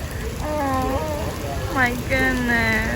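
Heavy summer rain pours down on a city street in a steady, dense hiss, while a woman's surprised exclamations rise over the downpour.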